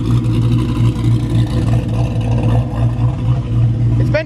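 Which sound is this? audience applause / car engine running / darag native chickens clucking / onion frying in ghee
car engine running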